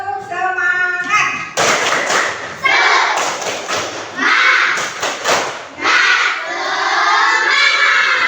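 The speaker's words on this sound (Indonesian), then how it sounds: "Mari kita sedikit tepuk semangat." A class of schoolchildren does a rhythmic spirit clap, bursts of hand claps and thumps in a patterned beat, with young voices chanting and shouting along close by.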